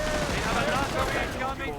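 Rifle fire in a WWII real-time strategy game pops and cracks over a dense battle din, with someone commentating throughout.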